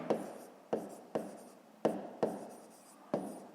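A pen or pencil writes in a notebook during a fifth-grade math exercise, making six quiet, separate scratching strokes in a loose rhythm, close up and alone.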